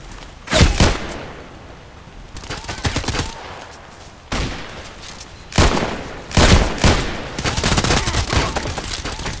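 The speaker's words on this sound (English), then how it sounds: "kind of hard to hit things at long range with the SMG" SMG gunfire in the video game Contract Wars comes in several loud, close bursts of rapid shots separated by quieter gaps, with faint background game noise.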